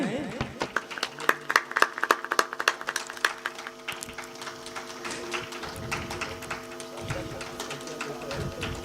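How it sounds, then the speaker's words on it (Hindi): Audience clapping at a devotional Manas music gathering, with rapid sharp claps loudest in the first few seconds, then thinning beneath sustained harmonium-like tones and a voice. "और ताली बजाते रहना है।"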